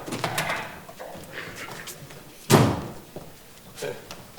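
A door slams shut in a Dutch dialect folk theatre stage play, a sharp loud thud midway after busy stage chatter and movement, with people talking around it.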